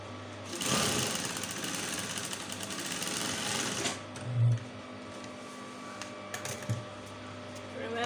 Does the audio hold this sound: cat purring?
no